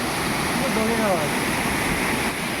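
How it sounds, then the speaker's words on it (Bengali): Bamni Falls in Purulia roars as a steady, dense wash of falling water, loud and close throughout, with a brief faint voice briefly audible above it. "জাস্ট আওয়াজটা শোনো জলে"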